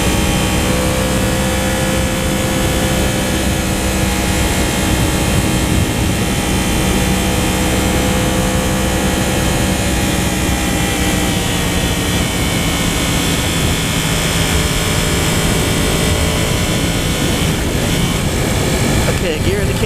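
A 2015 Yamaha R1 sportbike engine pulls hard through first gear in riding mode 1, a loud, continuous droning roar with layered harmonic whine and heavy wind rush throughout.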